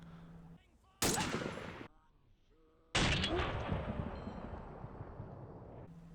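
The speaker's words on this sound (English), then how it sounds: "Up close with a Bren gun like that." Bren gun fire in the WW2: Arena video game comes as two loud, sharp bursts at close range, the second longer and trailing off into a rumbling echo.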